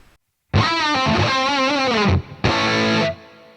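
Loud, distorted electric guitar with a Van Halen-style tone, playing a sustained phrase with a wide reverb wash, then a second strummed burst that rings out and fades.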